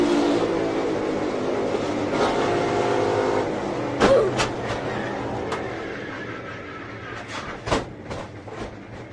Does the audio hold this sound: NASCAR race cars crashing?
yes